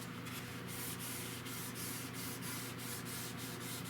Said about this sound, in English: All I'm doing with this is barely scuffing that glossy finish so that the new finish will have something to adhere to.